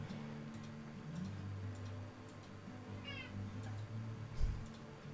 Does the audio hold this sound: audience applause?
no